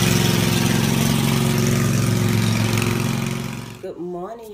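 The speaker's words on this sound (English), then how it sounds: "You just like driving the lawnmower, don't you?" A riding lawnmower engine runs loud and close with a steady rumbling drone. It cuts out near the end, and a voice is briefly heard afterward.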